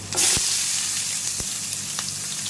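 Mustard seeds, onion and garlic fry in hot oil for a fish curry, giving a steady close sizzle with a few sharp pops and crackles spread through it, and no voices.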